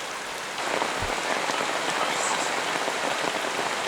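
Heavy forest rain pours steadily onto leaves and the ground as a dense, close hiss with no voices, swelling slightly after the first half second and then holding level.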